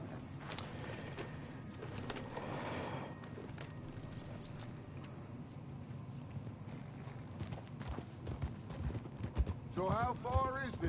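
Rhythmic clip-clop of horse hooves trotting steadily in Red Dead Redemption 2, with voices talking over the hoofbeats toward the end.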